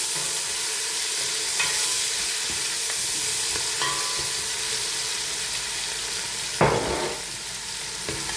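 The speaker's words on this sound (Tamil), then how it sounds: "வெங்காயத்தை வடிவாக கலந்து விடணும்." Sliced onions fry for mutton biryani, a constant sizzle in the pan with intermittent stirring scrapes and a sharper clatter near the end.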